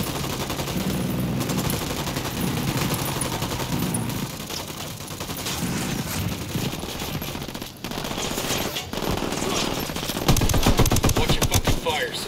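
Gunfire in Ghost Recon Wildlands, dense loud machine-gun bursts that continue almost without a break, with voices mixed under the shooting.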